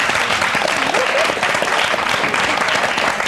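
An audience bursts into sustained, loud applause, dense clapping from a crowd filling the space without a break.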